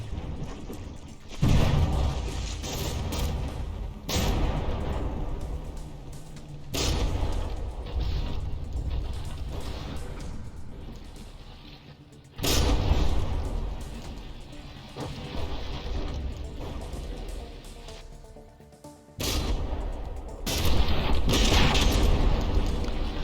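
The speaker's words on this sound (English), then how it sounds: "The gun is still active though, still firing away, plus its two APS secondaries." A battleship's main gun fires repeatedly in the From the Depths naval combat game, alongside two APS secondary guns. Heavy, booming reports land every few seconds, each followed by a rumbling decay.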